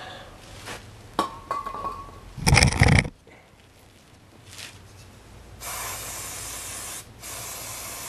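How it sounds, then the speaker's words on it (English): A short, loud burst of brake cleaner spray hisses for about half a second onto a Can-Am Spyder transmission part, set among faint clinks and handling noises, followed by a steadier background hiss. "Spray a little bit of brake cleaner on this."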